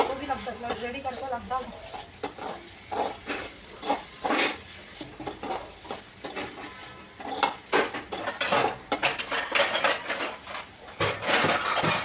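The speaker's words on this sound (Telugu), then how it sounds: "ఈ పసుపుని పచ్చివాసన పోయేంత వరకు ఈ విధంగా కలుపుకోవాలండి" A spoon scrapes and clinks against a pan while turmeric is stirred in, giving repeated metallic knocks and scrapes at close range, with a faint sizzle underneath and some indistinct voices in the background.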